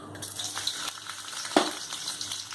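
Green chillies fry in hot oil in a kadai with a steady close sizzle, a few crackles and one sharp clink partway through, and no voices.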